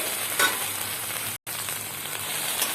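Chicken fries lightly in a pan, a continuous close sizzle with soft stirring noises, broken by a momentary silent gap midway before the hiss resumes.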